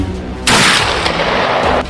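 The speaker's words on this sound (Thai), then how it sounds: "ทันทีที่เสียงปืนแผดคำราม" A single loud gunshot-like burst erupts after a quiet moment, followed by a sustained noisy rumble that cuts off abruptly.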